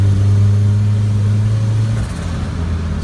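Turbocharged Honda Civic engine drones loudly at steady revs while driving at night, its pitch dropping slightly partway through as the revs ease.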